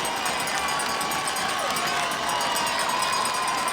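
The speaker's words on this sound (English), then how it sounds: "Crowd starts to make some noise" A crowd at a high school varsity football game roars steadily, a dense continuous wash of cheering and shouting with voices mixed in throughout.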